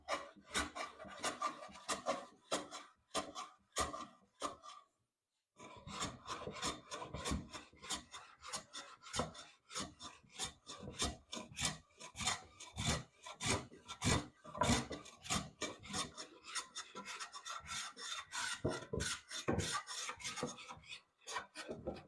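Hand plane taking shavings off a big, rough walnut board in repeated quick rasping strokes, close and steady, with a brief pause early on.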